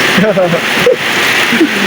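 Heavy rain pours beside the Blokang river, which is close to overflowing, making a dense, steady roar of splashing water throughout, with faint voices underneath.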